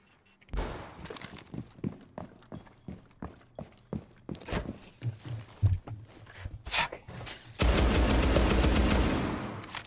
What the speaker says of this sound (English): Shots coming on from stretch